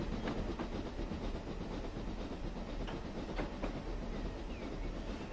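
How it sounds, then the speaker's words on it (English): In Train Simulator 2015 on the Western Lines of Scotland, a BR Class 6MT Clan steam locomotive's ambient background gives a continuous hissing rumble with faint rhythmic rail clatter and occasional soft clanks, steady and unbroken. "There you go, there's your steam engine background."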